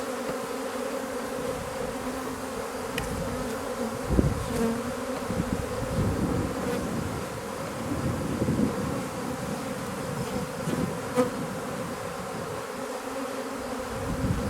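A swarm of honeybees buzzes in a dense, continuous drone at close range, with steady loudness throughout and no talking.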